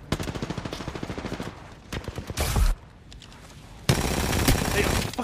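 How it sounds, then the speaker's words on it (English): Rapid automatic gunfire from the Apex Legends battle royale game rattles in dense bursts, with a loud sustained volley near the end and excited player voices talking in between. "We're getting shot on the side."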